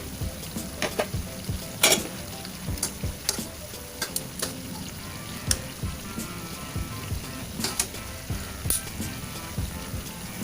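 Chicken adobo sizzling in a frying pan while the pieces are turned: a constant crackling fry under scattered scrapes, clacks and bumps from utensils against the pan, close and fairly loud, with no talking.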